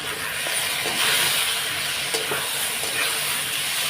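Fried potatoes, ginger paste, turmeric, salt, Kashmiri chilli powder, cumin powder and green chilli paste sizzle in a pan under steady stirring, with scraping strokes against the metal close up and no talking.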